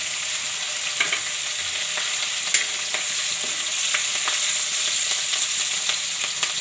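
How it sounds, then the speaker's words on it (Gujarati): Ginger and green chillies sizzle steadily in hot oil for a Gujarati methi-potato dish, a dense continuous frying hiss punctuated by a few soft stirring taps, close and alone with no talk. "આપણે વઘાઈને નાખી દેવું અને આ મરચાં નાખી દેવું"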